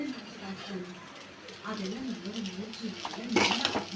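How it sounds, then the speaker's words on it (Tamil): Grated coconut being stirred into idiyappam gives soft scraping and clinking of a utensil against a pan, growing louder near the end, under a person talking. "நல்லா தேங்காய் எடுத்து அதோட சேர்த்து மிக்ஸ் பண்ணிக்கிறோம்"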